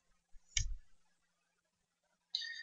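Two crisp, quiet computer mouse clicks in a silent room while applying settings in GTS NX engineering software, one followed by a faint brief rustle and the second about two seconds later.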